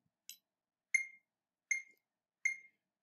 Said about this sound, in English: You're going to hear 1 bar of beeps on my metronome